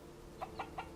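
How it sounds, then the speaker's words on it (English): Chickens in the video game Bellwright give three short clucks, evenly spaced and fairly close, over a steady low ambient hum with no talk. "Whoa, we got a bunch of chickens."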